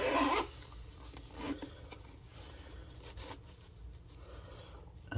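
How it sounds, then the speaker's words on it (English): A zipper running along a Sony WH-1000XM4 headphone carrying case as it is closed, heard as a brief scratchy rasp at the start followed by softer rubbing and handling noises. "Zips back up."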